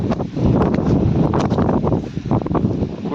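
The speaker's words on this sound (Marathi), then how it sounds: "हवा सुटली आहे" Gusty wind buffeting outdoors beside a village river in Maharashtra, loud rumbling gusts and rustle battering the microphone continuously, with no talk.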